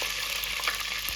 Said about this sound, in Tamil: கடுகு பார்த்தீங்கன்னா போட்ட உடனே நல்லா பொரியுது